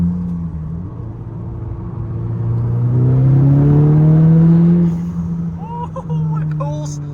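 Turbocharged car pulling under full boost, the engine note rising steadily in a loud rumbling climb before easing off, with a short whistle and chatter of the turbo afterwards.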